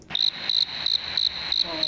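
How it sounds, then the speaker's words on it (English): Crickets chirp in steady repeated pulses, a bright trill sounding in short bursts about every third of a second, loud and close with no voices. "My crickets, they've missed me."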